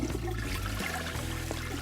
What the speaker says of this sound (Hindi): मैं फ्लश करना नहीं भूल सकती।